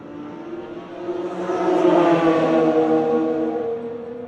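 BMW race cars in the Bridgestone BMW Race Series at Red Star Raceway pass by, the engine roar swelling from a distance to a loud sustained drone and then holding steady.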